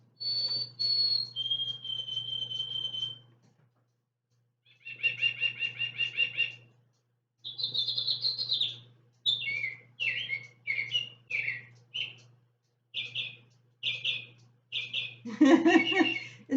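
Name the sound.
singing bird clock chirping bird songs on the hour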